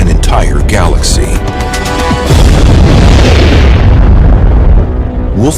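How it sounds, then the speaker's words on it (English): A supernova explosion sound effect, a huge deep boom that swells and rolls into a long, loud rumbling roar, with a brief speaking voice at the very start. "the outer layers fall in on top of it and bounce outward in a tremendous explosion"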